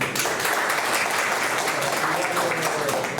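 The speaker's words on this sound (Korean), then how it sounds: "박수 한 번." Church congregation at a New Year greeting ceremony claps to welcome a guest, loud and close, with sustained rapid hand claps filling the room and some voices mixed in underneath.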